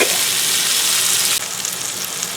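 Pot pie vegetables sauteing in a hot pan, a loud steady hiss and sizzle that drops slightly in intensity partway through, with no talking.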